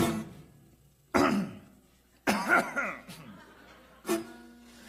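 A few forced, throaty coughs in separate bursts, close to the microphone, with brief pauses between them.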